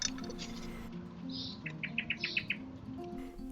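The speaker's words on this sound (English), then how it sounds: "This is the female blackbird." A female blackbird calls in a garden in the morning, giving a rapid series of about six sharp, high chirps close by over a faint background hum.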